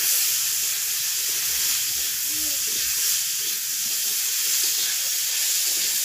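Potatoes sizzling in a pan over a home clay wood-fired stove in a Bangladeshi village kitchen, a steady broadband hiss that continues evenly throughout with no talk.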